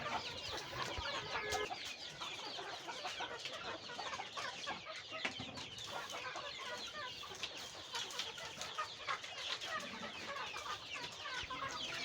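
Several chickens cluck and chatter continuously in a busy farmyard with young chicks, scattered calls overlapping throughout at a steady, moderate level.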